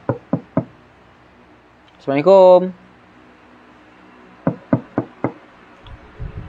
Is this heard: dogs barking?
no